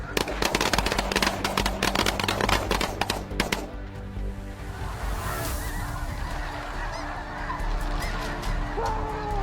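Wild geese honking as a flock during a U.S. goose hunt, a dense clamor of calls mixed with sharp, rapid shotgun-like bangs early on, then a steadier chorus of honks fading into outdoor ambience.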